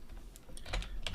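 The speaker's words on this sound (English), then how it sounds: "I'll use my keyboard here." Rapid typing on a computer keyboard, a close, crisp run of irregular key clicks with brief pauses, used for entering equations while solving a 3x3 system.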